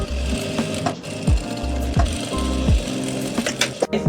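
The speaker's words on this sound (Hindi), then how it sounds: "तो गाइज़ ऐसे ही आपने दूसरी सिलाई लगा लेनी है।" Sewing machine stitching a second seam on a palazzo bottom, a close, loud rhythmic mechanical chatter with repeated short needle thumps and small pauses between stitch runs.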